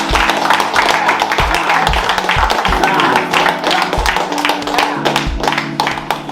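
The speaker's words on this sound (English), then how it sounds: "So we just want to give Keisha and family a round of applause." Lively clapping from a group in Trench Town, Kingston, honouring a visiting family, with a steady close patter of hands over repeating low thumping beats.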